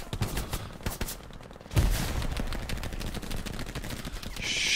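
A frag grenade blast in the Hell Let Loose World War II shooter: a sudden heavy boom lands partway through amid ongoing gunfire and battle noise, followed by sustained loud combat rumble.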